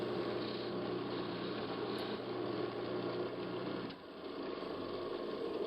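A wood lathe spins steadily while a tool cleans up a lower bead on the turning workpiece, giving a continuous close whirring hum with a brief dip near the end.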